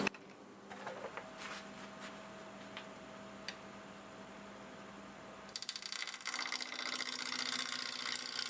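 An olive wood blank with corners spins on a wood lathe at 899 RPM, a steady mechanical hum with faint ticking, then a louder rough scraping chatter as the tool meets the wood partway through.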